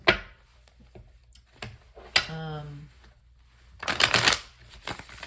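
Tarot cards shuffled by hand in a series of soft riffling bursts, with one longer, louder flurry near the end; a voice is heard briefly partway through.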